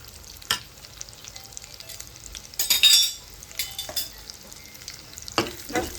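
Garlic and a Kashmiri-Malvani red chilli masala sizzle in a hot pan while a spoon stirs and scrapes it, with intermittent clinks against the metal and bursts of louder frying, close and without talk.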